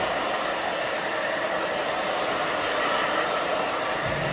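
A hair dryer blows on hair during a short A-line haircut, a close, loud, steady whooshing hiss that runs unbroken throughout, with no talking.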